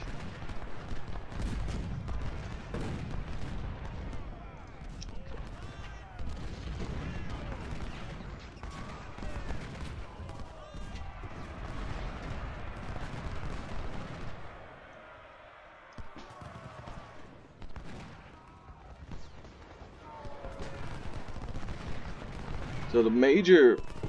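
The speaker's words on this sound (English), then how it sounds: "we'll go ahead and get one volley off of Bartow" Musket volleys and scattered gunfire from an Ultimate General: Civil War battle at First Manassas, repeated booming shots and crackling fire layered through the battle din, with someone talking over much of it.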